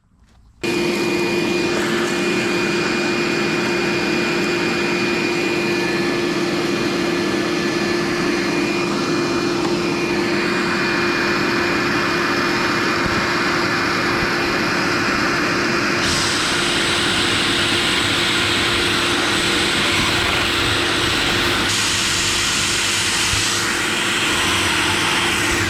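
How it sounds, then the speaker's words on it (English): A shop vacuum runs steadily and loudly during drilling of holes for a raised garden bed, its constant whine and roar dominating, with small shifts in pitch as the drill works, and nobody talking. "I'm going to go ahead and drill the rest of these with the vacuum running."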